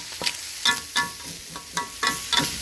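A spatula scrapes and tosses noodles with egg in a wok. It makes repeated rhythmic stirring strokes over a constant close sizzle, roughly two or three strokes a second.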